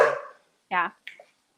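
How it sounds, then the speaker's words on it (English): A dog barks sharply a couple of times close by, with short pauses between the barks and silence after. "Sorry about the dog."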